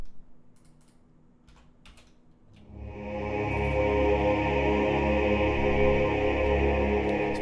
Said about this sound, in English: Another patch I used was a classic ah patch